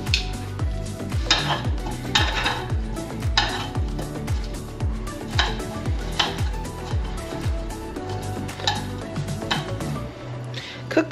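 Asparagus sautéing in a pan with salt and pepper, mostly heard as rhythmic clinks and scrapes of a utensil against the pan, repeating about every second, over a low sizzle.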